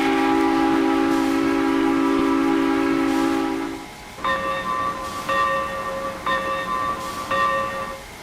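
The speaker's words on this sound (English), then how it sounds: "That's probably my favourite whistle from any locomotive in America." Southern Railway 4501 steam locomotive whistle in its green 1970s livery, in the Trainz railroad simulator: a loud, chiming chord blown in one long sustained blast, then three shorter toots in a steady rhythm.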